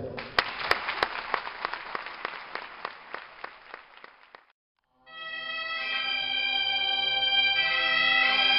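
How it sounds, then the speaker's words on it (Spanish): Audience applause at an end-of-year concert by a bagpipe band, rhythmic clapping in unison that fades out, then after a short pause a sustained reedy drone of pipes begins. "quiero que los felicitéis con un fuerte aplauso"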